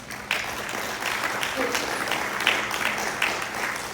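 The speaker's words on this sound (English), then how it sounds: "I want to give them a round of applause" A round of clapping from attendees at a Young Professionals meeting in Omaha, moderately loud and fairly even, with a few sharper claps and some background voices mixed in.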